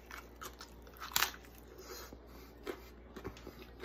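Biting and chewing into crunchy Jack's thin crust frozen pizza, a few brittle crackling crunches close to the mic, one sharper bite near the start, fairly quiet with no talking.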